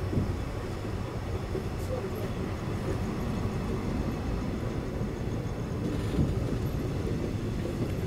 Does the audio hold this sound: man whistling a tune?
no